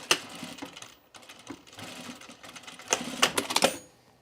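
Sewing machine stitching a label onto a henley shirt in short bursts, close and clattering, with rapid needle taps, pauses between runs and a busier flurry near the end.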